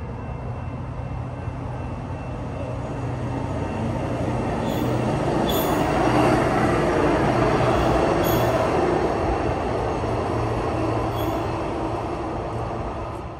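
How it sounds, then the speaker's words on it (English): A BNSF high-rail truck rolls past on railroad tracks with a steady rumble that swells and fades, accompanied by faint metallic squeals. "a BNSF high rail truck passes by"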